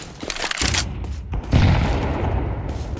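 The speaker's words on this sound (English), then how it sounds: "Throwing flashbang." A flashbang grenade goes off in Counter-Strike 2, giving two loud, sharp blasts about a second apart, each followed by a sustained roaring wash of noise.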